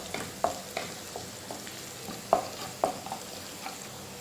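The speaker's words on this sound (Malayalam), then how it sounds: "നമ്മുടെ ഇഞ്ചിയും വെളുത്തുള്ളിയും ഒന്ന് മൂത്തിട്ടുണ്ട്" Ginger and garlic frying in a pan for Kerala-style fish curry, a low steady sizzle with a few sharp stirring scrapes and clicks of a spoon at close range, no talking.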